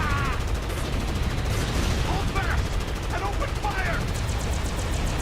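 Loud gunfire fills a battle in the role-playing game The Legend of Heroes: Trails Beyond the Horizon, with constant overlapping shots and barrages, plus brief tonal game effects mixed in.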